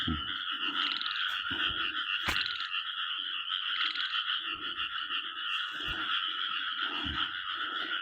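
Frogs croak steadily at night during frog catching, a dense, continuous chorus of loud rhythmic croaks. Sharp insect-like trills run over it, with a few thumps close by.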